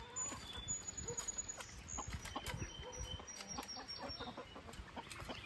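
Baby chicks cheep and cluck in their homestead coop, a steady close chorus of small peeping calls with light rustling and scratching throughout.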